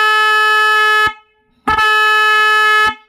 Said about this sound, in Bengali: তো হর্ন কীরকম বাজছে তোমাদের দেখাচ্ছি আমি